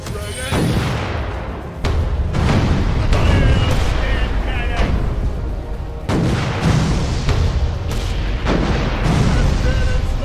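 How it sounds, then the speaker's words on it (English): Repeated booming cannon volleys from a sailing ship's broadside in the VR naval battle game Furious Seas, loud thuds in quick succession over a steady roar of battle noise, with a voice talking over it at times. "Right cannons ready."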